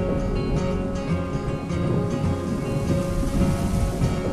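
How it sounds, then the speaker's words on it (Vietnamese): Steady rain falls with a low thunder rumble in an animated folk-tale scene, a continuous dense wash of drops under a tonal musical background, moderately loud and unbroken. "Đang nắng lại đổ mưa, ghét quá đi mất."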